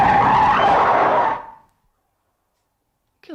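Tires screech loudly as a car brakes hard and skids for over a second, then cuts to near silence.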